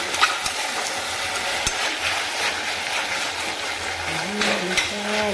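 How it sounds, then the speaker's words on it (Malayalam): Crushed ginger and garlic sauté in a pan while being cooked for an egg curry. A dense, constant sizzle of frying stays close, with occasional stirring clatter and a brief voice near the end. "ഇഞ്ചി വെളുത്തുള്ളി ചതച്ചത് ഇട്ട് കൊടുത്തിട്ടുണ്ട് ഇനി നല്ലോണം ഒന്ന് വഴറ്റി കൊടുക്കാം"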